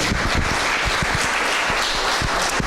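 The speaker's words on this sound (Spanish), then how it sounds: "Denle un fuerte aplauso al Rey en esta hora." A church congregation applauding together, a dense, loud, sustained roar of clapping that fills the room, with low thumps and crowd noise beneath the steady wash of hands.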